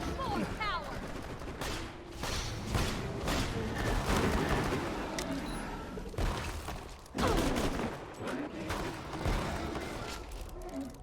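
Rapid gunfire in the shooter Borderlands 2, dense repeated shots and bursts throughout at close range, with voices talking over the shooting.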